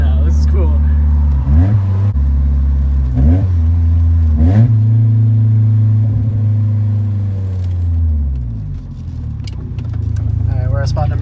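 A BMW E36 with a 1.8 liter engine and a 4.44 differential pulls hard through the gears, engine note rising in rapid revs with quick drops at each shift, loud and close from inside the cabin.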